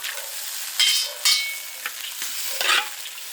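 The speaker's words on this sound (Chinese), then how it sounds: "加入豆腐" Tofu goes into a hot iron wok of mapo tofu, with sizzling frying and several distinct bursts of stirring scrapes, close and fairly quiet, no voices.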